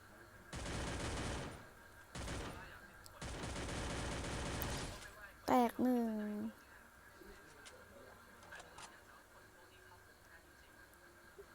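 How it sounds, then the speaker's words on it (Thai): Rapid bursts of automatic gunfire in the battle royale game Free Fire, three sustained volleys in quick succession followed by a short chirping game sound, with a voice speaking in between. "ว้าวเขายิงกันตรงนี้"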